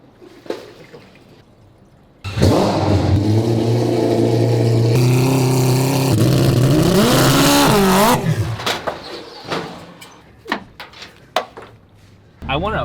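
A 4-rotor rotary engine roars on a dyno, surging into a loud sustained rev for several seconds with rising pitch, then dropping back to idle pops and sputters.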